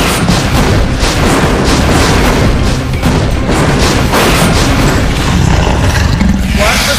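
Sci-fi blaster fire in a loud, dense, continuous barrage of booming shots and bursts. The blasts pile into a constant wall of noise with no pauses.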